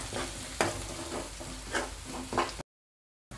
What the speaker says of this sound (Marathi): हा मसाला आपल्याला चांगला परतून घ्यायचा आहे